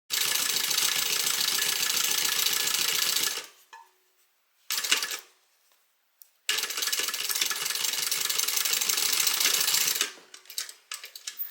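Sewing machine stitching the side of a fabric bag, fast rhythmic needle chatter in two long bursts separated by brief pauses and a short burst, close and alone without speech.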